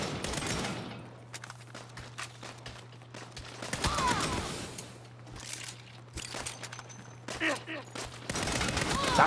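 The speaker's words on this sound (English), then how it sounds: "Stop shooting me." Bursts of video game gunfire from Saints Row rattle in short volleys over a steady low hum. The shots come in uneven clusters, some close and sharp, with quieter gaps between them.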